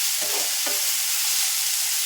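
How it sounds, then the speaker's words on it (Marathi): Chopped onion, coriander and tomato frying in a pan, a constant bright sizzle with a couple of brief stirring scrapes near the start, close and without talk. "कांदा भाजला आहे आपला, त्यामध्ये थोडंसं कोथिंबीर आणि चिरलेला टोमॅटो घालून छान भाजून घ्यायचं।"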